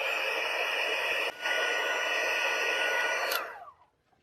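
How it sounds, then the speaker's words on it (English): A heat tool blows a steady, close hiss of hot air while melting white embossing powder, with one brief dip partway through before the air cuts out and trails off into silence. "We'll sprinkle on some white embossing powder. And then I can heat set that till it melts."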